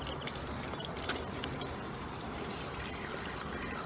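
Clear water running steadily out of a tube in a smooth laminar stream, giving a soft, even trickling wash that stays constant throughout with no talking.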